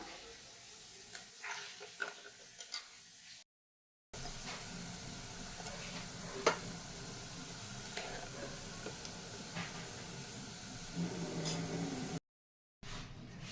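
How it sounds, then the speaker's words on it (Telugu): Beetroot frying in a pan and being stirred, giving a steady low sizzle dotted with soft scraping and clicking stirs, broken by two short silent gaps. "బీట్రూట్ మంచిగా ఫ్రై అయ్యే వరకు కూడా మనం కలుపుతూనే ఉండాలండి"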